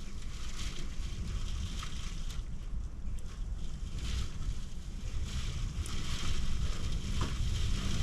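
Strong wind of a Norwegian snowstorm roars continuously, buffeting and gusting with a broad rushing noise that swells toward the end; no voices.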